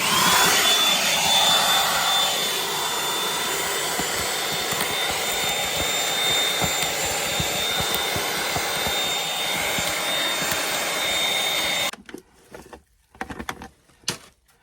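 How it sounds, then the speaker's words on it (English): A shop vacuum sucks gravel out of rock cracks at a desert waterfall, a loud, steady roaring whine with rattly grit hits that runs for about twelve seconds, then cuts off into quiet with a few scattered knocks. "we're going to use this guy right here. And we're gonna suck out all the little cracks and crannies,"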